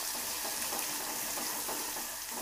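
Raw onion and dried red chillies fry in oil for red chilli chutney, a close, dense sizzle that stays steady and even from start to finish.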